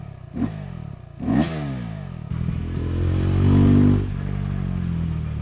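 A 2024 KTM 390 SMT motorcycle ridden along the Mosel, two short throttle blips rising and falling, then a sustained engine pull that builds and holds before settling, close and moderately loud.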